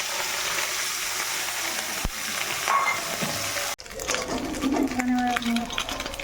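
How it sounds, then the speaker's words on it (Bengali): Small fish coated with salt and turmeric fry in hot oil, a steady hiss and crackle that jumps louder partway through as they hit the pan, with faint voice in the background. "এবারে কেটে বেছে ধুয়ে রাখা এই ছোট মাছগুলো নুন হলুদ মাখিয়ে এবারে দিয়ে দেবো"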